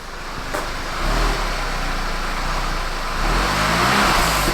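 Car engine revving as gas is applied on a newly acquired free project car, a steady loud engine roar that swells in two pushes of throttle with road-like rumble underneath, no talking.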